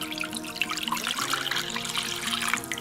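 Water poured from a cup into a crock pot, a bright splashing trickle with bubbling droplets running steadily for a few seconds, close and fairly loud, with no talking.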